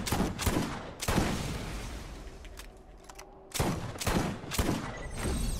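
Rocket and gunfire barrage in the shooter game Borderlands, with an enemy firing rockets: repeated loud blasts and explosive bursts in quick succession, dense and booming throughout with no talking.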